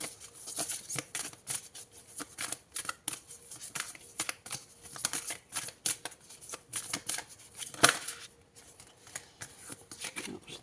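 Tarot cards are shuffled by hand close up, a rapid run of crisp riffling flutters and snaps repeating throughout with no talking.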